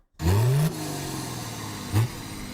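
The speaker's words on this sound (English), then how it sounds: "I would have never guessed that this VW engine would be found in a Volvo" A Volvo car fitted with a Volkswagen diesel engine revs sharply, rising to a loud roar, then settling to an idle hum before a second short blip of throttle.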